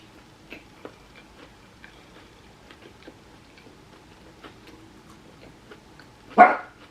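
A dog barks once, a short loud bark near the end, after a stretch of faint ticking and small clicks in a quiet room.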